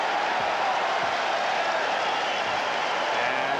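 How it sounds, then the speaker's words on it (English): Basketball arena crowd at a 1991 Bulls vs 76ers playoff game cheering for Bill Cartwright, a steady, dense roar of voices filling the whole stretch. "And Cartwright hears the cheers from the crowd."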